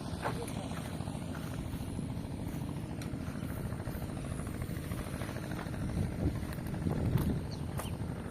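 A smoky farm engine runs at a planting field. It makes a steady, low, rumbling drone that carries on throughout and swells slightly near the end, with faint voices and outdoor noise around it.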